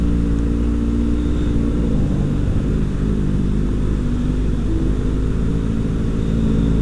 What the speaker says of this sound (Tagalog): At ang traffic talaga dito ngayon sa EDSA.